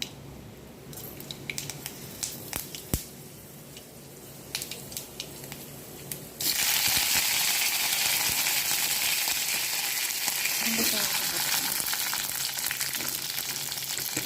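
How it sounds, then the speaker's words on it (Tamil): Fenugreek seeds hit hot oil for the tempering of a drumstick and mango aviyal. Scattered light clicks and taps give way to a sudden, loud, sustained hiss of sizzling that holds steady to the end. "இது தாளிப்புக்கு வெந்தயம் கொஞ்சம் போட்டுக்கணும்."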